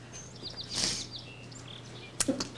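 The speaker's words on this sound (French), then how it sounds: "Est-ce que t'entends l'oiseau qui chante?" A songbird chirps in short, bright high-pitched bursts against a quiet background hum, with a few scattered tweets and a sharp closer chirp near the end.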